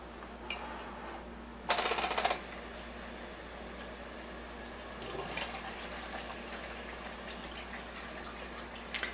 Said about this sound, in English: the hose, the acid hose, is actually filling up the cup